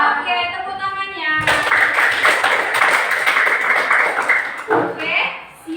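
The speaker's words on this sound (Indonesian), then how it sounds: "Oke, tepuk tangannya." Classroom students clap their hands together, a dense, loud burst of applause lasting several seconds between stretches of a teacher talking.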